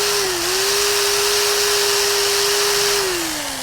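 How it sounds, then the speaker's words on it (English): A corded power drill runs steadily at full speed, powered from a Luby 700W portable power station, a loud continuous whine that dips slightly in pitch near the start and winds down at the end. "So this is a corded power drill"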